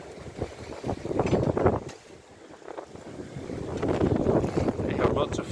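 Wind rushes over a sailboat under way, a loud buffeting roar across the mic with water sloshing beneath, easing briefly midway before building again.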